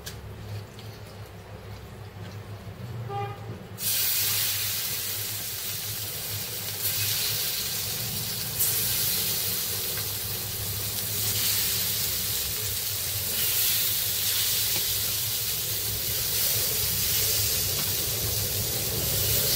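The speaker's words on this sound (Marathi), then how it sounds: "मस्त कोलंबी आपण सगळ्या फ्राय करून घेऊया." Prawns coated in rice flour frying on a hot griddle for a Malvani-style fish thali: a loud, steady hiss and sizzle that swells sharply as they hit the pan and keeps going for a long stretch, with no talking.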